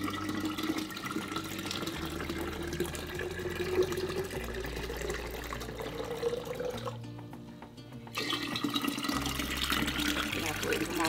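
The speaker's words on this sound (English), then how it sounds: "let's go ahead and add water to all these guys" Running water pours steadily into jars for starting kombucha, with a brief pause partway through before the flow resumes, close and continuous.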